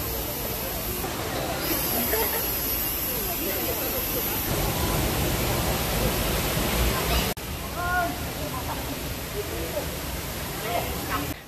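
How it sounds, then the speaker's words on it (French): River water rushing at a natural bathing spot in Khao Yai, Thailand, a steady loud broadband wash of flowing water throughout, with voices faintly audible in the mix. "c'est un petit bout de rivière dans lequel on peut se baigner, qui est vraiment très agréable"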